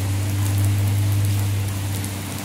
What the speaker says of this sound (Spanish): Llueve.